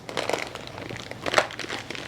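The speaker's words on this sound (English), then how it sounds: "Then remove the first layer of foam" Packing foam being lifted out of a box holding a GPS antenna and sensor module, giving a soft crinkling and rustling with a few sharper crackles, close and fairly quiet, no voices.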